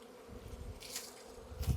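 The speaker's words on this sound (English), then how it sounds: "As you can tell, I've got a good sized swarm here." A honey bee swarm buzzes steadily in a low, dense hum, fairly quiet and close, with a soft swelling drone throughout.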